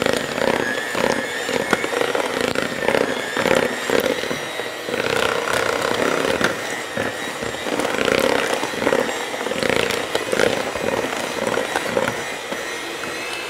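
An electric hand mixer beats butter and sugar with flavour extracts in a plastic bowl, giving a loud, steady motor whine with slight wavering pitch that runs continuously throughout, with no talking.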